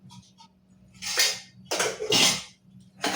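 Ceramic and metal clatter as washed dishes and pots from the night before are handled and stacked in a kitchen, several bursts of clinking with short pauses between, close by.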